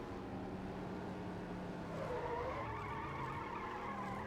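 A car drifting in the racing game Need For Speed ProStreet, with a steady engine drone and a rising, wavering tire squeal across the middle of the skid, played back fairly quietly.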